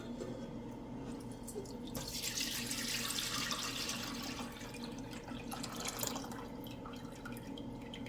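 Melted homemade tallow poured from a pot, a steady liquid trickle and splash that swells in the middle and runs continuously at close range, with no talking.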